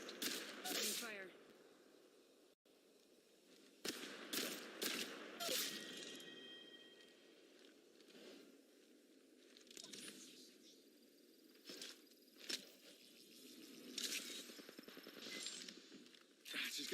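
Gunfire in the mobile battle game Apex Legends Mobile, several loud bursts of rapid automatic shots with quieter stretches between, with short character voice lines heard.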